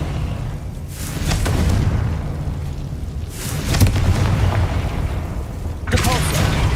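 Confringo spell blasts in Hogwarts Legacy, deep booming explosions striking in several loud bursts with rumbling decay between, alongside a voice.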